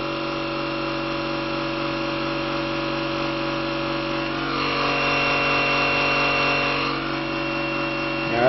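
A generator runs under an electrical load, giving a steady, loud mechanical hum with tonal whine that shifts in pitch partway through as the engine speed drops, then settles back near the end.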